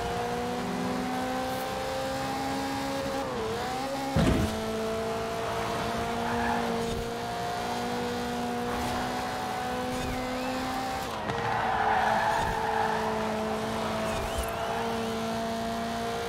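A Toyota Celica GT-Four ST205 rally car in Forza Horizon 4 holds a steady engine drone after a downshift, revs dipping at about four seconds and rising again near eleven, with tire and surface noise, no talk.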